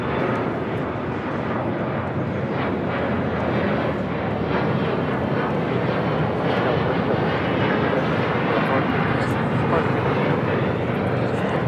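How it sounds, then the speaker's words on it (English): A Delta Connection Embraer E175 jet takes off at LAX, its engines giving a loud, broad, steady roar that holds for the whole stretch. "3766 taking off to Tucson, Arizona on an E175"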